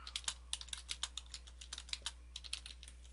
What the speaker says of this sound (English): Type some stuff here.